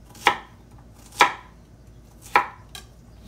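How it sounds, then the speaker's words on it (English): A knife chops cabbage into large pieces on a cutting board, with three sharp, distinct chops spaced about a second apart and a fainter fourth one, close and clear with no talking. "Cabbage. I'm gonna cut these fairly"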